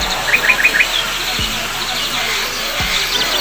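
Birds in a zoo aviary give a short series of small, bright chirps near the start, fairly faint, over a steady outdoor background with a couple of soft low thumps.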